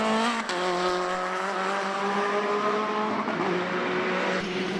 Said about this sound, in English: Colm Hines making all the right sounds in the 1988 Formula 3000 car